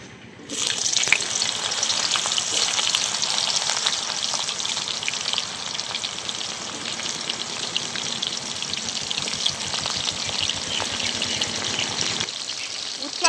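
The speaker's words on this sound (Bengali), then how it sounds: "এবার বাকি সবজিগুলো একই রকম করে আমি ভেজে নেব।" Mixed vegetables for shukto frying in hot oil, a loud, dense, continuous sizzle that starts abruptly and holds steady near the pan for the whole stretch.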